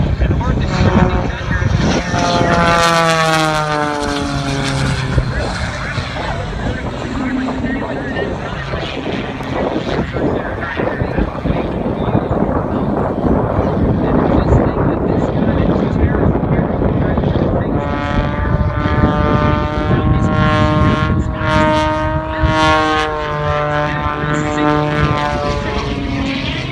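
A propeller aerobatic airplane roars through a practice routine at the Cleveland National Airshow, its engine loud and continuous with rising and falling pitch as it pulls hard manoeuvres, under an announcer's amplified commentary.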